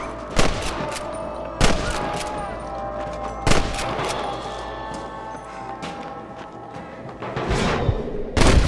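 Red Dead Redemption shootout clearing out a camp at Pike's Basin: four or five sharp, loud rifle and revolver shots spaced a couple of seconds apart, with a rumbling background between them and a final cluster of shots at the end.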